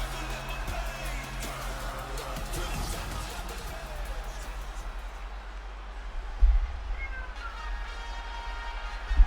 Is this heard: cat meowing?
yes